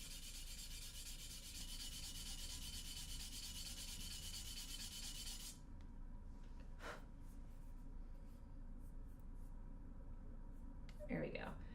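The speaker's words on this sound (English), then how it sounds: "So I'm going to keep sanding it a little bit further" Sandpaper rubbed over a reed, heard as a steady close scratching rasp. Partway through the sanding grows quieter and thinner, and there are a couple of soft taps and a faint breath.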